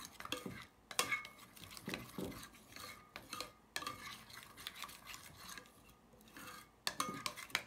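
A brush or utensil stirs hair dye mixture in a bowl, scraping and clinking in repeated uneven strokes with short pauses, fairly quiet and close, no talking.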